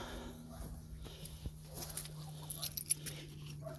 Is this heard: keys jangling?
yes